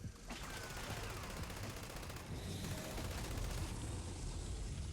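LMG machine gun fire in Fallout 76, with a dense, continuous stream of rapid shots heard fairly faint and steady, without any talk.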